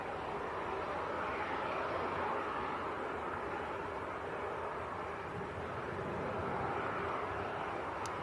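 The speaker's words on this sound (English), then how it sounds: "KLM about a mile out. It's an Embraer E190 from Amsterdam." A 15-year-old KLM Embraer E190 from Amsterdam approaches Leeds Bradford Airport about a mile out, its engines a steady, broad, distant roar that holds evenly throughout with no voices.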